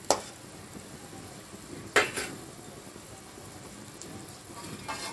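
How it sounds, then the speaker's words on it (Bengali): Fish going into a pot of boiling curry, with a couple of sharp clanks against the pot over a low, steady bubbling hiss, all fairly quiet. "এবার আমি মাছটা দিয়ে দেব।"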